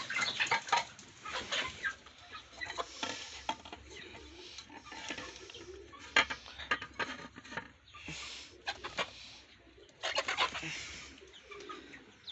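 Domestic desi hens and chickens cluck in a busy farmyard flock, with irregular overlapping bursts close by and a faint clatter of feed or dishes.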